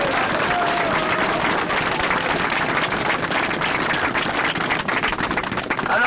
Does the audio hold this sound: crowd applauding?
yes